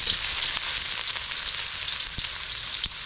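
Crushed fresh ginger frying in a hot pan gives a steady, close hiss of sizzling oil with faint crackles, no voices.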